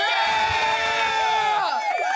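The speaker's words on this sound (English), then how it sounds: "Round of applause!" An excited group in a podcast studio cheers and whoops, loud and close, with raised shouting voices and a swelling, pitch-bending tone running under the noise.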